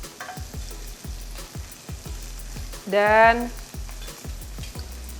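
Prawns frying in a hot pan for a creamy Cajun dish, a steady close sizzle with rhythmic stirring or scraping taps, briefly joined by a short tonal squeak in the middle; a voice speaks faintly once.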